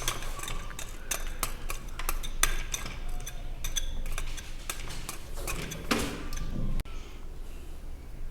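Grated potatoes being mixed into besan batter in a bowl, with a steady run of close, sharp clinks and scrapes of a spoon against the bowl that continue for several seconds without any voice.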